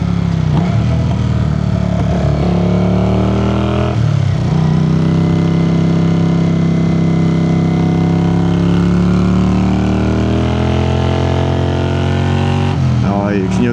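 A 1981 Honda CX400C motorcycle engine while riding, a steady droning hum close by that rises and falls in pitch as the rider shifts and changes speed, with brief dips between gears.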